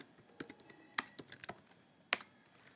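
Someone types a command on a computer keyboard in a quiet room, producing sparse, irregular key clicks with a few sharper, louder strikes near the end.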